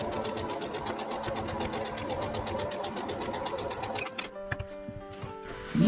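A sewing machine stitches patchwork fabric for a log cabin block in a fast, even run of needle strokes, then slows and stops into a few scattered mechanical clicks.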